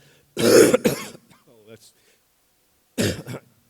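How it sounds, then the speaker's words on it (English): Two rough, hacking coughs up close, the first a harsh double burst, followed by a pause and a third cough; no speech. "I just have a cough. It's a particularly hideous sounding thing."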